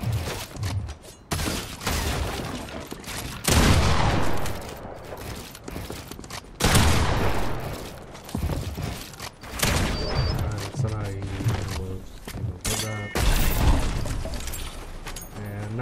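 Gunfire from the video game Fortnite crackles in repeated bursts and single shots, loud and up front, mixed with other game sounds across the stretch.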